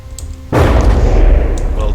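A sudden heavy burst of video game gunfire erupts from a drone and keeps booming with rough, rumbling impacts on an armored vehicle, loud and close, after a moment of quieter background.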